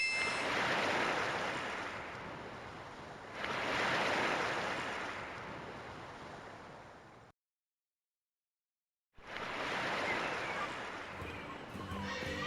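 Ocean surf from King's Quest III VGA washes in broad, steady swells, with a couple of waves building and fading before a short silent gap and another surge, no voices present.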